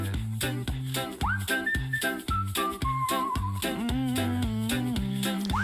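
Melodic human whistling trading phrases within an a cappella country song, the whistled line gliding and sustained over steady rhythmic vocal bass and beatbox, loud and prominent throughout.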